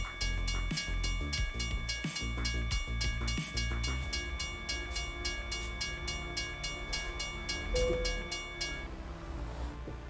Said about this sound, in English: Big container train.